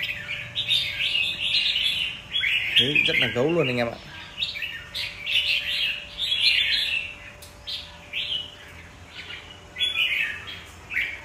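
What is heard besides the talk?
caged red-whiskered bulbul singing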